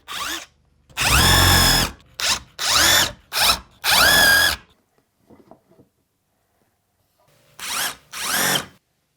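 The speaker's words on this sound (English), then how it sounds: "pre-drill with this countersinking bit" A power drill pre-drills holes in thick wood with a countersinking bit, running in five short loud bursts, then a quiet pause and two more bursts, with no voices.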